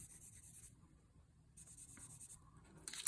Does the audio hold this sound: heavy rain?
no